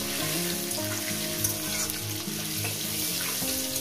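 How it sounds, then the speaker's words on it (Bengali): Potato pieces fry steadily in hot oil seasoned with salt and turmeric, a dense, even sizzle heard up close throughout, with faint stirring and no voices. "আলুগুলো আমি ভেজে নেব প্রায় 4-5 মিনিট করে।"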